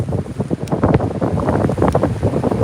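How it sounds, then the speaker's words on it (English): Wind buffets a microphone outdoors while fishing, a loud, gusty rumble that roars continuously and unevenly throughout. "Sorry about the wind."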